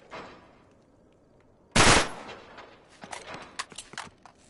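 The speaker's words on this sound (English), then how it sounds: "Back up, I'll shoot the lock." A single loud gunshot blasts open a lock in Uncharted 3, followed by scattered footsteps and light clatter nearby.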